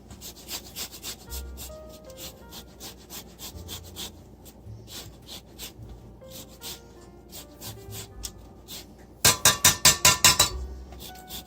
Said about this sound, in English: And I will zest some lemon